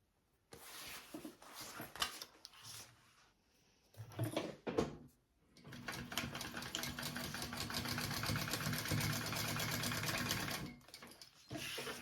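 A sewing machine bastes lining onto a sling, with short bursts of stitching, a few handling clicks and pauses, then one long steady run of rapid stitching before it stops.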